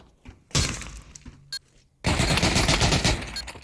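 Gunfire in the Pavlov VR shooter, a sharp blast followed by a longer burst of loud crackling shots with a brief pop between.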